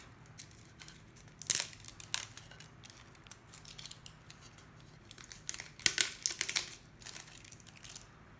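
Ping pong paddle packaging torn open by hand, quiet close-up crinkling and ripping with a few sharper tearing bursts amid soft plastic rustling.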